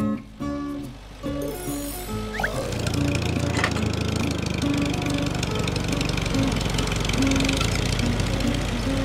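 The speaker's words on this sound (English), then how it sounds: "Tractor." A tractor engine starts up and settles into a loud, steady, rough chugging rumble that holds constant to the end, following a brief stretch of music at the start.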